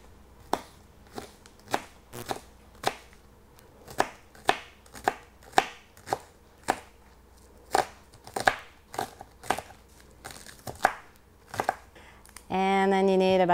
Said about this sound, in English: I'm going to slice off the ends. And I'm using the Rada Cook's knife.